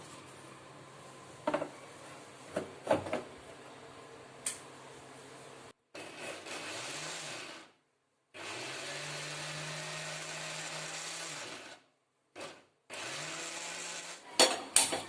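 A mixer grinder grinding coconut chutney whirs in several loud bursts, running steadily for a few seconds at a time with short pauses and clattering handling noises between runs.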